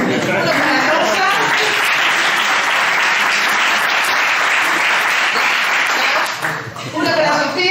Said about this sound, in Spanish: voy a pediros un aplauso para cada uno de ellos